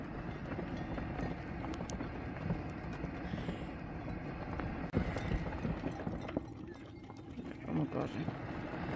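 A flock of fat sheep running along and across a farm track, their hooves making a dense, continuous patter and shuffle at close range, with rustling and a few sharper knocks, no voices over it.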